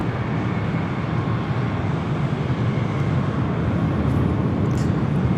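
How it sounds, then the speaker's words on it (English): Embraer E175LR jet airliner departing LAX, steady loud broadband jet roar held throughout without a break. "Next departure, Alaska SkyWest Flight 3309, heading to SFO and an E175LR"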